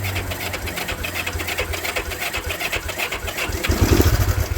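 A vintage barn-find engine cranks over and over in a fast rhythmic chug, sputtering and trying to catch, louder toward the end, close by with no voices.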